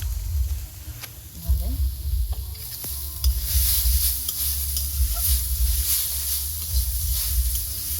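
Coconut filling cooks in ghee in a pan as part of a village-style Bengali bhapa pitha recipe, starting with quieter stirring and then building to a bright, steady sizzle, with a voice talking at times underneath.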